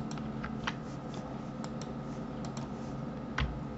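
Scattered, crisp key clicks come from a computer keyboard during 3D modeling work in Blender, sounding as isolated taps and short pairs over a low steady hum.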